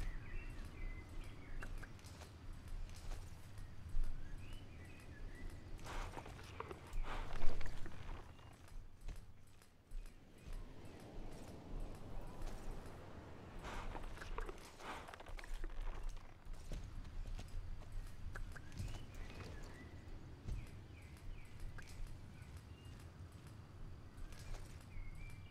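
Horse hooves clip-clop steadily while riding in the video game Star Stable, a moderate rhythmic patter over ambient game background with faint insect-like chirps, no talk.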